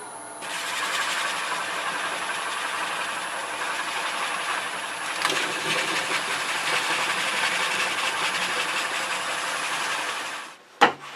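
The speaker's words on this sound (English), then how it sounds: "I think I'm just going to do that with sandpaper. Sandpaper and a dowel." Sandpaper backed by a dowel works inside a box elder hollow form spinning on a wood lathe, making a steady close whir and hiss that runs unbroken for about ten seconds before ending in a brief knock.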